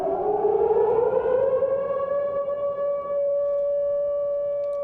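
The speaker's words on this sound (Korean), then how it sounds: "통금 사이렌 울렸으니까" A curfew siren in 1978 Seoul near the Namdaemun police precinct wails loudly and steadily, one long sustained tone that rises at the start and holds, heard alone.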